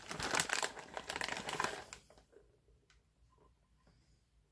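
Close, crinkly rustling of a plastic pepper jack cheese package being opened for about two seconds, then quieter scattered ticks and handling sounds.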